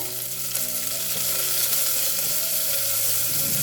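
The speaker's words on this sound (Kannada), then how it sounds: "ಸೊ ಈರುಳ್ಳಿ ಮತ್ತು ಹಸಿಮೆಣಸಿನ್ಕಾಯಿ ಎಲ್ಲನೂ ಒಂದು ಸ್ವಲ್ಪ ಕೆಂಪದಾಗೆ ಆಗೋ ತನಕ ಹುರ್ಕೊಳ್ಳೋಣ" Onion and green chilies fry in a pan with curry leaves, a dense, continuous close-up sizzle that stays loud and even throughout, with nobody talking.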